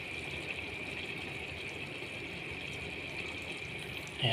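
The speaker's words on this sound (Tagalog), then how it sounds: "Ngayon po ilalagay na po natin ang ating gata." Coconut milk poured into a cooking pot, a steady soft liquid rush holding evenly for about four seconds with no talk, ending in a brief louder clatter.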